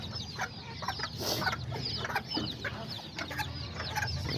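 Hens and their baby chicks cluck and peep continuously at close range in a farmyard, with soft overlapping calls and brief louder squawks.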